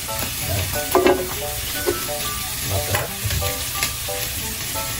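Squid and crab sizzle in garlic butter sauce with a little oil while being stirred in a pan, a steady close crackle and hiss with scraping stir strokes throughout.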